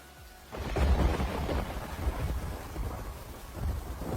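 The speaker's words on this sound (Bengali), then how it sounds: "এই যা, বৃষ্টি যে চলে আসছে" A cartoon sound effect of rain and thunder begins after a brief quiet, swelling into a low rumbling roll with a dense patter of rain that continues steadily, with no voices.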